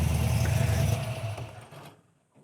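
A car engine roars loudly at close range with a deep, rumbling low end, then dies away over the last second into near silence.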